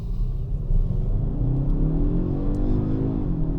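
A 2019 Kia Stinger GT-Line AWD accelerates hard in sport mode, heard from inside the cabin as a loud, continuous engine drone that rises steadily in pitch.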